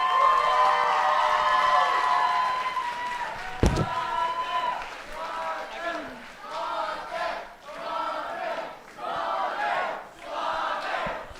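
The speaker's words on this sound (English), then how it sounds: "let's give them all a round of applause" Audience at a Saturday night dance show: loud crowd cheering and shouting swells, a sharp slam lands partway, then voices speak over a crowd that keeps rising and falling in waves.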